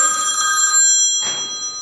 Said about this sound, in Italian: Telefono? Telefono.